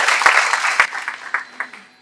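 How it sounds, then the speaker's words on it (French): Applause from an audience at a welcome ceremony for new baccalaureate graduates, a short burst of clapping that thins out and fades over about two seconds. "applaudissements s'il vous plaît."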